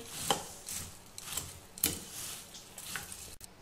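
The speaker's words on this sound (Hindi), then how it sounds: "बड़ा चम्मच ले ले रहे हैं तो ऐसे हम अच्छे से फटाफट झाल मुढ़ी मिक्स करेंगे" Puffed rice for jhal muri being tossed and mixed with a big spoon, a few quick, crisp scraping and knocking strokes at an irregular rhythm, close and fairly quiet.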